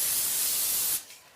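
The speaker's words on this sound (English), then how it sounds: "I cover a tray in plastic wrap, and I spray it so that it won't stick" Cooking spray hisses steadily from a can onto a tray covered in plastic wrap, a loud close burst about one second long that stops abruptly and leaves faint room noise.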